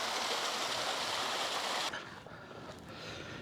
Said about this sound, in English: Lovely wee waterfall there.